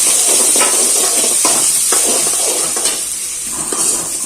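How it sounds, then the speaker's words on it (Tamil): Onions sautéing in hot oil in a pan for vendakkai fry, a loud continuous hiss and crackle broken by regular scraping stirs of a spatula, no speech. "இந்த ஸ்டேஜ்ல வெங்காயத்தை போட்டு நல்லா வதக்கணும்."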